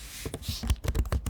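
Rapid, close typing on a computer keyboard during a Shopify store setup, a quick irregular run of light clicks and taps with no voices.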